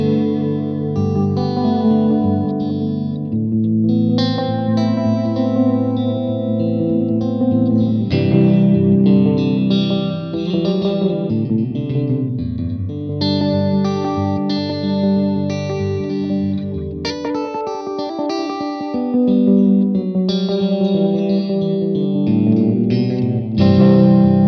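Electric guitar run through a Caroline Megabyte delay pedal with the modulation turned up and low gain, playing sustained chords and notes that smear into dense, wavering repeats, loud and continuous throughout with no talking.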